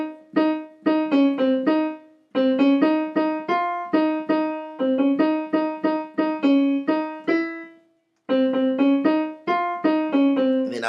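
Piano playing the tenor part of a gospel song, a series of close-voiced chords struck in a steady rhythm with brief pauses between phrases, sounding clearly and alone without talk.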